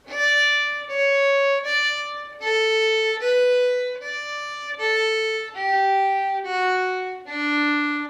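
Solo fiddle playing the closing phrase of the old-time tune Arkansas Traveler, a run of clear bowed notes in a steady rhythm, close and loud with nothing else behind it.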